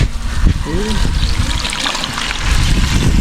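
Water pours and trickles onto corn in a wok with a steady splashing wash, while a voice talks briefly at the start.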